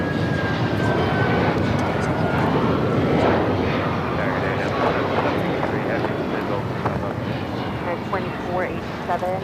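An airliner going around at LAX roars loudly and steadily throughout, its broad engine rumble constant and close, with a voice talking over it.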